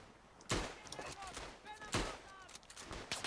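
Gunfire in the video game Battlefield 1 on the Tannenberg map, two sharp, booming shots about a second and a half apart amid faint scattered battle noise and whistling tones, fairly quiet overall.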